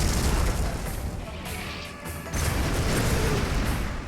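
A barracks in the C&C Generals video game is blown up by cannon fire, a loud booming explosion with a crashing roar that briefly drops and then surges back into a dense rumble.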